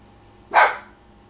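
A single short, close dog bark bursts out on its own against a quiet room, lasting about a quarter second before fading.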